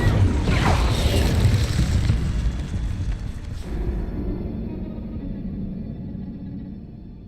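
A fiery Incendio spell blast in the video game Hogwarts Legacy, a loud roaring burst that swells and rumbles for several seconds before slowly fading.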